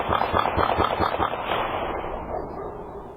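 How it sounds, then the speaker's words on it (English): A rapid burst of about six or seven sharp gunshots, caught on surveillance footage of a triple shooting near Troy and Arlington. The evenly spaced cracks sound somewhat distant and trail off into a fading rumble. "those rapid gunshots you heard stem from a triple shooting near Troy and Arlington"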